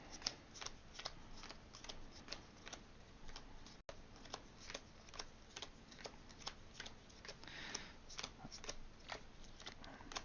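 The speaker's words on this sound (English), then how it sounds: "And then just gonna do another pile shuffle." A deck of Flesh and Blood trading cards is pile shuffled, cards dealt one by one onto separate piles in a quick, even series of soft close taps and flicks, with no talk.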